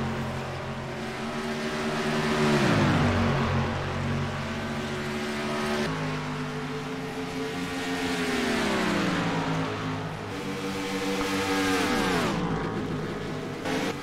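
Stock race cars lap Chicagoland in a NASCAR video game, with steady, loud engine drones rising and falling in pitch as cars rev through the turns and sweep past, repeating in waves.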